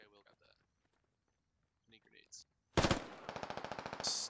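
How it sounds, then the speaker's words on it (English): Gunfire in the video game Squad, a sudden loud burst followed by a rapid automatic string of shots, after quiet radio-style voice chatter. "Sledvy takes a shot."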